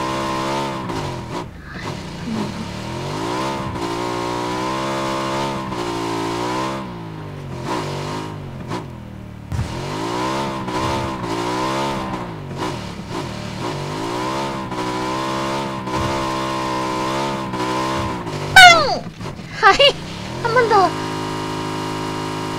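A motorcycle engine in the PUBG video game revving and shifting through rising and falling pitches, loud and sustained, ending in a burst of explosion-like noise.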